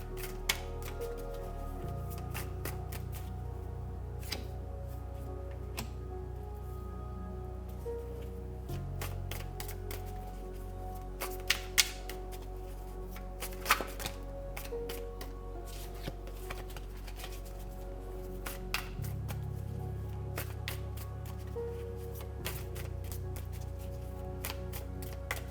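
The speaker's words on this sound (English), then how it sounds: "I'll be quiet for a second because people love to hear shuffling on these videos. So I'll hush my mouth while I shuffle." Tarot cards shuffled continuously at close range, a dense steady riffle of crisp card clicks and slaps with a low background hum and no talking.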